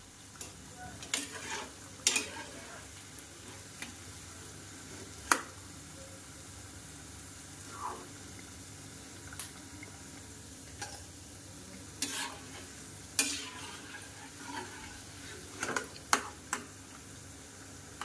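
Bora fritters frying in hot oil in a pan on a gas stove, a soft continuous sizzle broken by scattered sharp ticks and spatula scrapes against the pan.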